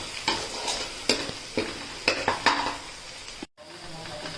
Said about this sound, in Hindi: मेन तो दिक्कत इसी में आती है प्याज को भूनने में बढ़िया